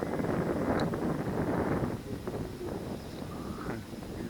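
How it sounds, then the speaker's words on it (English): Strong gusty wind roars and buffets the microphone at an RC plane flying field, heaviest at first, then easing to a steadier rushing blow. "It's 10 plus mile an hour wind out here, so I don't know, it's going to be a handful."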